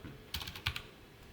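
Brief run of quiet clicks typing on a computer keyboard, a few keystrokes in two small clusters, faint and close with no talk.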